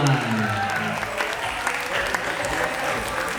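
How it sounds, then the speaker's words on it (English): Audience applause follows a Sarawak dance performance, a full, continuous patter of many hands that stays steady from start to finish, with a voice faintly beneath it. "give a big applause to everyone"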